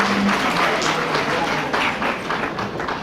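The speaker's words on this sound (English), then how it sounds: "How about one more big round of applause to our Grupo Jarocho del Valle?" Banquet audience at the Mission Historical Museum in Mission, Texas applauding Grupo Jarocho del Valle, a steady, fairly close patter of clapping through the whole clip with faint chatter mixed in.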